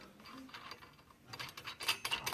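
Tightening couplers on a G-777 Alaskan chainsaw mill, producing short close ratcheting clicks and metallic mechanism noises that grow busier toward the end.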